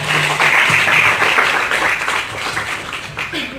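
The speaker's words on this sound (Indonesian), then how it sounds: "tepuk tangan buat mereka" An audience applauds Miss Indonesia 2017 finalists with a dense, sustained round of clapping that stays loud before gradually thinning out, with a voice faintly heard beneath it.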